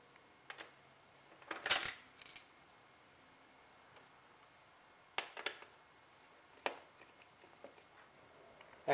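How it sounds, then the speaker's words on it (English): Screws being unscrewed and lifted out of a Turbo Duo PCB board: sparse, quiet clicks and small taps, with a brief cluster of light metallic rattles early on and a few isolated clicks later, over near silence. "There's a couple of screws in here that we'll take off."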